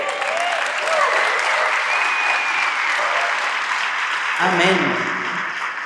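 Church congregation applauding during a Spanish-language worship service, dense steady clapping sustained throughout under a preacher's voice and crowd voices, with a call-out near the end.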